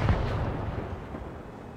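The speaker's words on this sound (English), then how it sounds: "Get behind him, a nice HE shot." A tank firing a high-explosive shell in World of Tanks Blitz, one heavy boom at the very start that rolls off into a long, dull rumble, loud and close with no voices.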